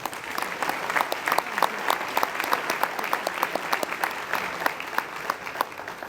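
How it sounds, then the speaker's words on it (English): A luncheon audience applauds the speakers, a dense, steady wash of many hands clapping at close range that holds for about six seconds without letting up. "Let's give all of our speakers a round of applause."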